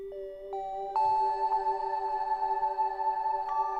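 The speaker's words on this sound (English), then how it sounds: "So you will have this very spacey, beautiful bell sounds." Spacey synthesized bell tones in Logic Pro X ring out in a few struck notes that layer and sustain, each new strike adding a bright chime over a long shimmering tail.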